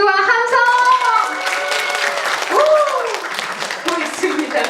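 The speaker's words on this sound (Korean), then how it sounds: "박수와 함성!" A talk-show audience in Korea claps and cheers, with dense applause under loud, excited shouting voices that rise and fall across the whole stretch.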